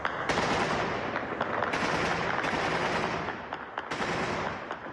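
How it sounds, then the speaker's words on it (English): Rapid bursts of gunfire in Kabul, Afghanistan crackle repeatedly, sharp reports following one another in quick succession, loud and echoing, with no voices. "gunfire is an almost daily occurrence in the Afghan capital"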